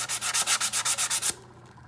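Rhythmic back-and-forth scraping of sandpaper by hand, about ten quick even strokes close up, then stopping abruptly.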